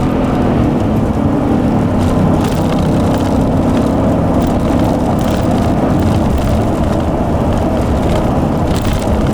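A Ford F150 pickup with a 5.0 V8 running on LPG roars steadily and loudly at high revs, a dense continuous engine sound up close with no voices.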